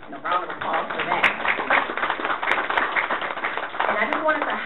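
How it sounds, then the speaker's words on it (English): Audience at a school district board of education meeting applauding, dense clapping sustained throughout, with some voices mixed in. "So can we raise a round of applause for that?"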